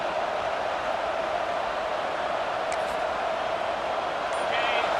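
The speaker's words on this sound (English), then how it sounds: "This crowd bringing the energy and noise early" Stadium crowd in EA Sports College Football 26 roars as a steady, loud wash of noise throughout, with commentary-like voices mixed in.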